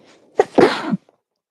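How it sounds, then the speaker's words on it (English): A single human sneeze, loud and close: a short sharp intake followed by an explosive burst that trails off within about a second, then quiet. "I'm going to sneeze again."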